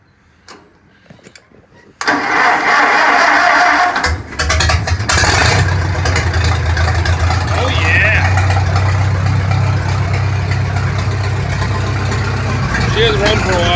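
An old Farmall tractor engine cranks and catches after a few quiet clicks, then settles into a loud, steady, rough idle close by, with people talking over it.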